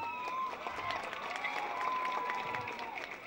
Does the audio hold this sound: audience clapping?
yes